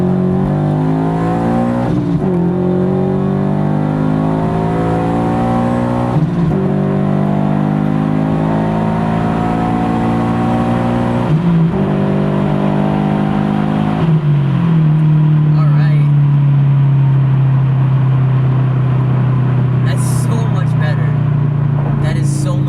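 A supercharged Subaru BRZ revs up hard, accelerating from 40 mph through rising gear pulls, loud and close, with a brief drop between shifts and a steady high whine near the end.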